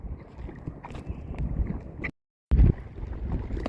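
Strong gusts buffet the microphone over choppy water, roaring in waves, cutting out briefly, then returning with a loud blast.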